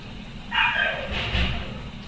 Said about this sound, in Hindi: अबे कुत्ते भौंकना मत करना